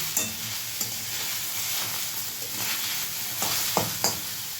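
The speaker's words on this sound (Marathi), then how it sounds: "कोरात मसाला भाजून घेतला आहे मग आता डायरेक्ट मसाला परतवण" Masala dry-roasting in a pan without oil while being stirred, giving a steady dry rustling with a few scraping spatula knocks throughout, fairly close and moderately loud.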